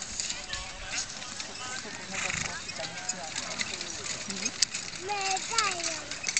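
Hutsul horses at a horse show in Regietów, hooves clip-clopping and neighing in the open air while someone talks over them throughout.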